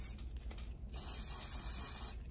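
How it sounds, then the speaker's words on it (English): One Size mattifying waterproof setting spray misted onto a makeup sponge: a single close, steady hiss lasting just over a second, starting after a quiet moment. "I'm gonna take some of the One Size setting spray and spray some on my sponge."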